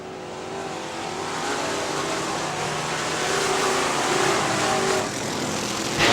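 IMCA modified race cars at Crystal Motor Speedway in 2000 roar steadily around the track as they head into a turn. Their engine drone is loud and continuous, and the pitch rises and falls slightly as the cars pass.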